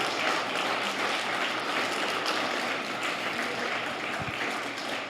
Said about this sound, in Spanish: Reciban el aplauso de bienvenida de la gente que está hoy aquí acompañándonos